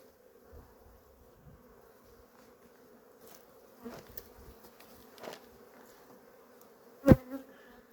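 A steady, low buzzing drone of many honeybees at the hive hums throughout, with occasional sharp knocks and clunks close by.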